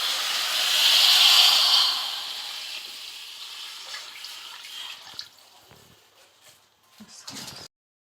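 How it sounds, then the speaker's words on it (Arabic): Warm water pours into a pot of vegetables for stuffed turnip leaves, a loud hissing splash for a couple of seconds that fades into quieter trickles and drips, with light kitchen clinks near the end. "هنزل بقى بالميه بتاعتي، ميه تكون فتره كده او سخنه"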